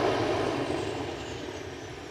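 Aircraft engines wind down at Aberdeen airport, a broad whining rumble that tapers and fades steadily over a couple of seconds.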